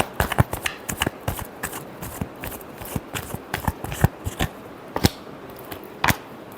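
Tarot cards are shuffled by hand in a rapid, uneven run of crisp riffles and slaps, close and alone with no talking.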